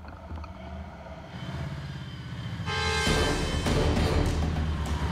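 An off-road truck engine on a rough Alaska trail rumbles close and loud, building in intensity and then holding a heavy, revving roar with some clattering.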